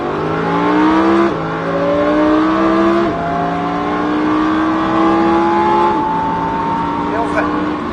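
A Lamborghini Huracan accelerates hard around the Mettet circuit, its engine note climbing through three rising pulls punctuated by quick gear changes, loud and close, with an instructor's voice talking intermittently over it.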